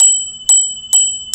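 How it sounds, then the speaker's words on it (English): Bicycle bell on a kids' bike and scooter ride, rung in three sharp metallic dings spaced evenly apart, each with a bright ringing tone that sustains between strikes, close and fairly loud over quiet background rumble. "Let's give a bell."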